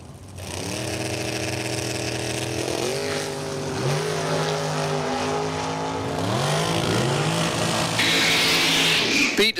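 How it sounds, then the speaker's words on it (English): A brand new Chevrolet-powered dragster races at a drag strip, its engine roaring steadily with several rising revs and gear changes, loud and close with no voices. "Brand new Chevrolet powered dragster in the right side for Team ESTA"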